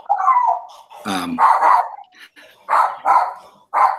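A dog barks in the background of a remote group discussion call, giving a series of short, fairly loud barks and yelps with brief pauses between them.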